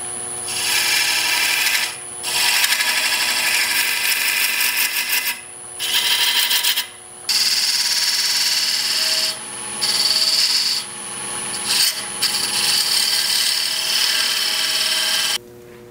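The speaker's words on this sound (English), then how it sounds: "I'm working on my male tenon. And I'm going to use a point tool to kind of sneak up on that line" A point tool cuts a male tenon on a spinning workpiece on a woodturning lathe, a loud close scraping hiss in long passes broken by brief pauses as the tool lifts off, with no talking.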